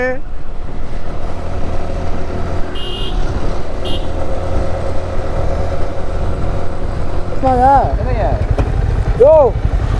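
A Bajaj Pulsar 220F motorcycle engine drones steadily and loudly while riding, a constant low rumble, with a few wavering horn-like tones rising near the end.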